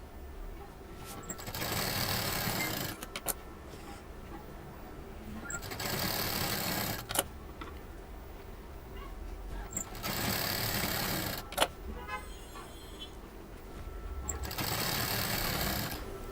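An electric sewing machine stitches printed and plain patchwork fabric pieces together in bursts of steady, fast mechanical whirring, separated by short pauses and small clicks. The sound is close and moderately loud.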